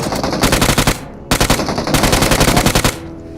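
Automatic gunfire in the BGMI mobile battle royale game, Mecha Fusion mode: loud close rapid bursts in two long strings with a short gap between, no speech over them.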